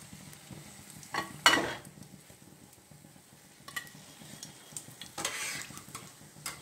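Jackfruit cutlets frying in hot oil, a soft steady sizzle with occasional louder crackles and bursts as pieces are dipped in and moved, close by with no talking.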